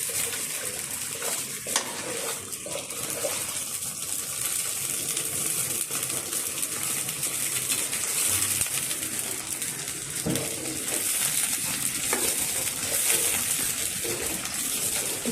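A spice mixture sizzles in a frying pan while being stirred, a steady close hiss of frying with occasional scraping clinks and no talking.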